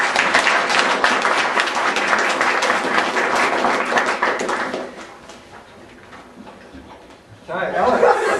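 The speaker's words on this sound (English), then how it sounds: "Plenty more of that. Big clap." A room of guests at a graduation dinner breaks into loud, dense applause for several seconds, which fades briefly before a second burst of clapping, with voices and laughter mixed in.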